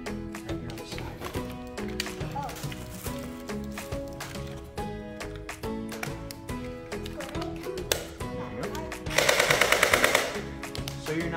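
Gel ball blaster firing a quick burst of rapid, evenly spaced pops, lasting about a second near the end, over continuous background music.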